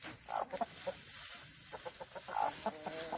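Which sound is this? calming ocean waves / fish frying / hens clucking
hens clucking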